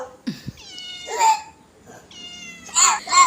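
A pet cat meows several times, loud and close, with drawn-out rising and falling calls while a small child plays with it; a faint voice may murmur in the background.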